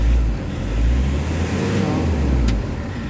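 Idling engine of a Nissan Urvan Premium van after an XADO engine treatment, a steady low rumble running close and continuous with no voices over it.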